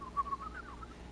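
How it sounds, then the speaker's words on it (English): Bird calls in the video game Death Stranding 2, a few faint whistled tones over steady low background ambience, with nobody talking. "Nice birdie, nice birdie."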